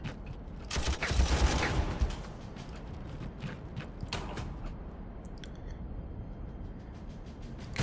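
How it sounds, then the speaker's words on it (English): Artillery firing in the strategy game Warhammer 40,000: Armageddon, a dense burst of booming shots and rattling bursts near the start, then scattered impacts and mechanical clatter continuing at a steady, moderately loud level. "Okay, artillery. Start hitting those anti-Titan weapons."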